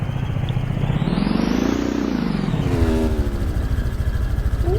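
Motorcycle engines roar past at close range, the pitch rising and then falling as they go by, followed by a steady mid-range engine drone.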